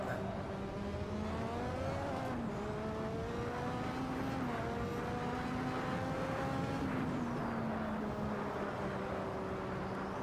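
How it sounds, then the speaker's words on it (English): McLaren MP4/4 Formula One turbo engine in Assetto Corsa at Spa, droning steadily from the cockpit with repeated throttle blips that briefly raise and drop its pitch, alone without talk. "just blip the throttle"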